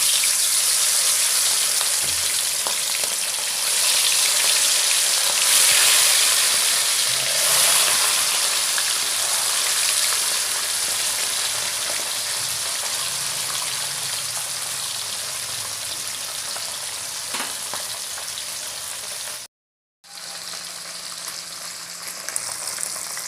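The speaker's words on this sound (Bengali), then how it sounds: "গরম হয়ে গেছে তেলটা এবার মাছগুলো আমি ভেজে নেব" Fish frying in hot oil in a wok, a loud continuous close sizzle that crackles and dips slightly over time, cut by a brief silent gap near the end, with no voices.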